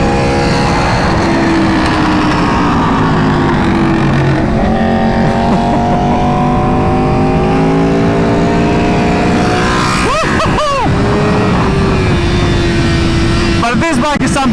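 A BMW S1000RR motorcycle fitted with a GP20 exhaust revs hard through a tunnel, its loud engine note climbing and echoing, with sharp rev blips near the end; a voice can be heard over the engine.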